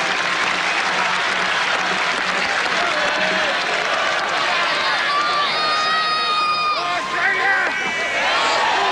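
A cricket crowd at the 1994 Hong Kong Super Sixes final applauds a batsman with sustained, loud clapping and some cheering, and a commentator's voice is heard over it.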